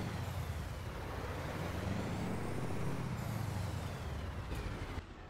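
A Mack B62 truck engine in American Truck Simulator rumbles at a steady, faint idle with broadband mechanical noise and no speech.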